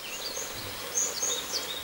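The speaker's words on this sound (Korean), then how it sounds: "박새 같아요." Great tit song in a yard beside a vegetable garden on a remote mountainside, a few thin high chirps and short phrases, fairly faint and some distance off, heard alone over quiet outdoor background.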